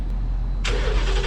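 A 2019 Ford Mustang GT convertible with the 5.0 liter Coyote V8 and quad exhaust idles with a deep rumble, then an engine rev or start surges loudly halfway through, close by with no talk.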